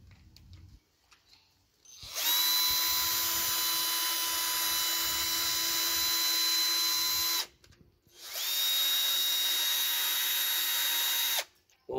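An electric drill used directly, not an impact wrench, bores into concrete in two long loud bursts of steady high-pitched whine, separated by a short pause.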